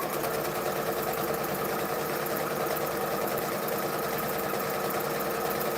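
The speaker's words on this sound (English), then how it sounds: "She's got to check out the sewing machine." A sewing machine runs steadily and fairly loud, its fast mechanical stitching hum continuous throughout with no pauses.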